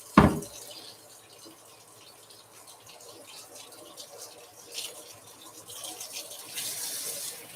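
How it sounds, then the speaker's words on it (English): A kitchen tap runs with warm water, a soft, steady hiss and trickle that continues alone for several seconds after a sharp knock at the start, rising slightly near the end. "let us get us nice warm water"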